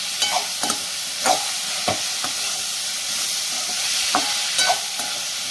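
Veld grape (perandai) leaves are sautéed for chutney, giving a steady soft sizzle with scattered stirring scrapes and clicks from the pan, close and continuous, with no talk.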